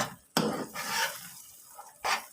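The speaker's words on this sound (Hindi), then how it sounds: "बस चम्मच हिलाते रहना है आपने" A spoon stirring a thickened egg, sugar and oil mixture in a pan, with a few sharp scrapes and knocks between softer swishing strokes, close and moderately quiet.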